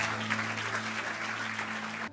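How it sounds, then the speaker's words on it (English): Audience at a church service applauding, a dense, continuous clapping from a crowd lasting about two seconds before cutting off abruptly. "Let's give a round of applause to the son."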